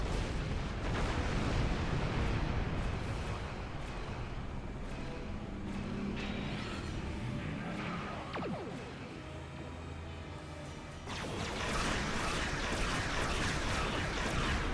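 Ship weapons fire volley after volley in the Star Trek Online video game, a dense, continuous roar of booming blasts that eases briefly and then swells again near the end.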